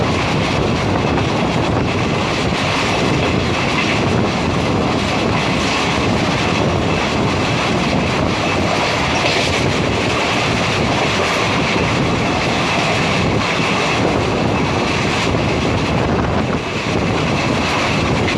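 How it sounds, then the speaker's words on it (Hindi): Passenger train on the Parbhani–Jalna line running steadily past a skipped station, a loud continuous rumble of wheels on rails with faint clickety-clack, heard from aboard and filling the whole stretch without talk. "तो हमारी ट्रेन उस्मानपुर को भी स्किप करके निकल गई।"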